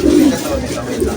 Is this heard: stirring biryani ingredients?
no